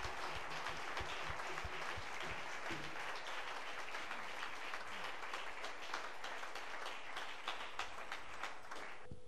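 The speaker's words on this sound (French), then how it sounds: "Acclamons-les s'il vous plaît." A church congregation applauds at a worship service, a steady, dense roar of many hands clapping that carries on without a break, heard from some distance.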